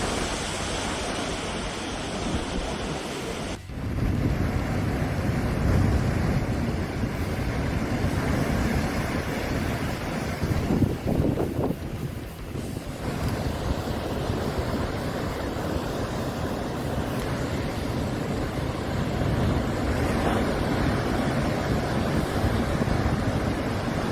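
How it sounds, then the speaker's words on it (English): Surf and waves crash against the rocky coastal chasm of Boca do Inferno in Portugal, with a steady, loud roar of churning water and gusting wind noise across the whole stretch. "Boca do Inferno, a famous location in Portugal where you can witness the terrifying power of the ocean."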